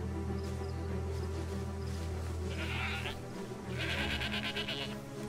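Sheep bleat in the video game Valiant Hearts, several wavering bleats over a steady layer of game ambience and music, with two louder, longer cries in the second half.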